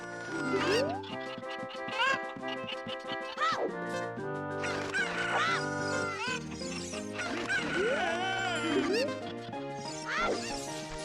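Cucco chickens in the Ocarina of Time N64 game cluck and squawk repeatedly over the game's background music, a busy chorus of game fowl cries.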